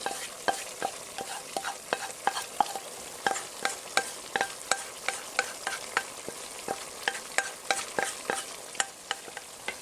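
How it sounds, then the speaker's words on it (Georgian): A spoon stirring a thick spicy sauce frying in a pan, with rhythmic scraping knocks at a quick, regular pace over a soft sizzle, close and without talk. "კარგად ამოურიოთ."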